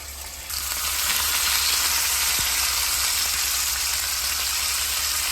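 Food sizzles and splatters steadily on a Ninja electric griddle, a close, continuous frying hiss that swells after a quiet start, with one faint tap and no talk.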